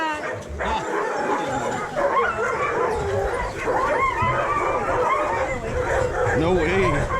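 Sled dogs in Juneau, Alaska, bark, yip and whimper excitedly in a loud, continuous chorus before a dog sled ride, with people talking over the noise.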